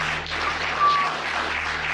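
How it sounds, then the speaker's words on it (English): Applause from a courtroom audience following life sentences handed down, a steady diffuse patter of many hands heard at a distance, fairly even throughout with a faint low hum underneath. "Them motherfuckers in there giving a round of applause"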